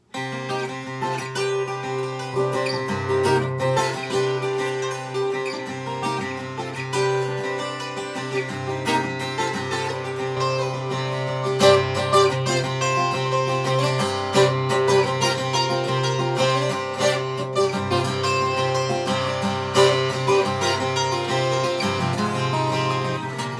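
A fingerpicked guitar melody over sustained chords at a steady, moderate tempo, continuous and fairly loud with no voices.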